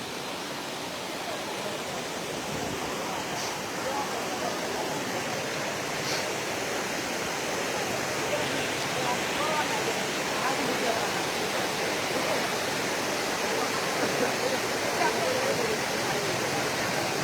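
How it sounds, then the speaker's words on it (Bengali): Floodwater flowing in from Mizoram surges through the Hailakandi Godamghat area in a constant, loud, broadband roar that stays unbroken from start to finish. "মানে অনেক ভয়ঙ্কর রূপ দিয়ে এই জলগুলো প্রবেশ করছে"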